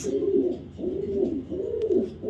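A female Green Neck Budapest racer pigeon coos nearby in three steady, throaty, rolling phrases with brief pauses between them, clear and alone without talk.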